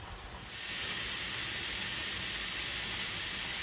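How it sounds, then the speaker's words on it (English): Steam hisses hard and steady from the vent spout of a pressure canner used for canning venison, rising quickly after a softer start into a loud, continuous rush with no voices. "the spout right there is releasing a bunch of steam"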